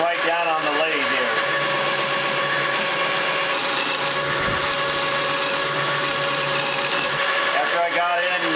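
Wood turning on a lathe, giving a steady, loud whirring whine with shifting tonal squeals as the tool cuts, continuous through the whole stretch with no voice heard.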